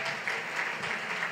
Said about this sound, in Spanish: Puede darle aplausos al Señor.